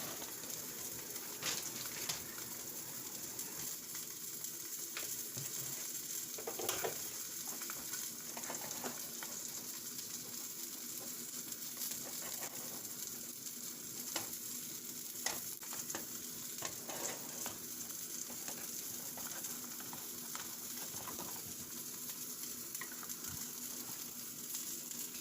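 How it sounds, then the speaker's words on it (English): An omelet frying in a pan on medium-high heat gives a steady, close sizzle throughout, with occasional light scrapes and taps of a utensil against the pan and no voices. "I am cooking this omelet on medium high"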